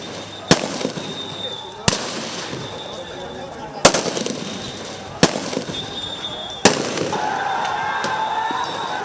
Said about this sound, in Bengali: মুহুর্মুহু গুলি, টিয়ার শেল,